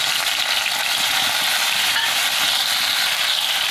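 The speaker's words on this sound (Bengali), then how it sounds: "তেল গরম হয়ে গেছে, মাছগুলো ভেজে নেব।" Shrimp rubbed with turmeric and salt fry in hot mustard oil in a kadai, giving a loud, steady, dense sizzle that holds without a break, with no voices.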